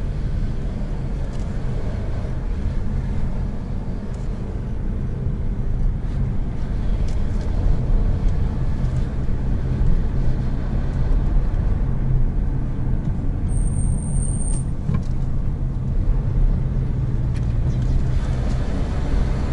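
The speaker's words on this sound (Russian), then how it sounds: "Едем по новому асфальту." A car drives along freshly laid asphalt near Akhangaran, Uzbekistan, heard from inside as a steady, loud tire and road rumble with engine drone that continues evenly throughout, with no voices.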